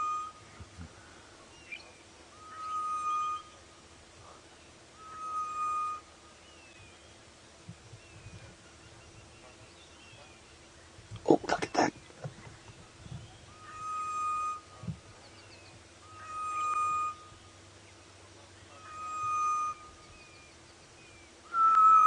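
Ghost bird, known in Afrikaans as spookvoël, calling on a misty safari morning: clear whistled notes repeat at a steady pace over a quiet background, with a brief burst of noise partway through.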